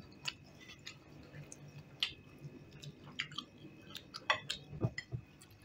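Someone eats cooked fish by hand, producing quiet close chewing and soft squishy bites in irregular bursts, with a few light clinks, no talking.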